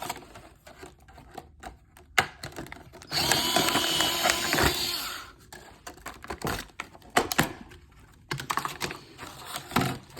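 A Ryobi USB lithium multi-material cutter slices through material with a rapid, clicking, mechanical chatter in two louder bursts, with quieter snips and handling noises in between.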